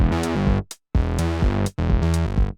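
A funk bass line loops twice, its second half pushed a sixteenth early and left without a completing note, with a brief silent gap between the two loud repeats.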